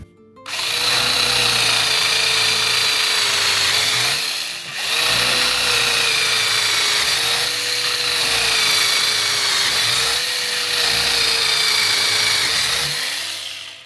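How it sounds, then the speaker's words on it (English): Cordless drill with a brushless motor bores through hard walnut at full speed, a loud continuous whine close up with a brief dip in the middle, no voices. "that was full speed, and it didn't seem to bog down at all going through hard walnut with this drill bit"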